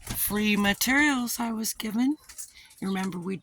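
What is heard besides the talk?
None of the usual background noises is heard.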